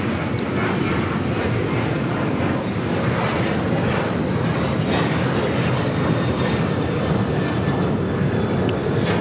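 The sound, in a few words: United Airlines Boeing 737-900ER taking off at LAX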